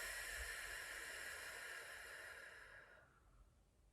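A slow, deep exhale of breath during a guided relaxation, a soft, steady breathy hiss that fades out near the end, quiet and close with no talking.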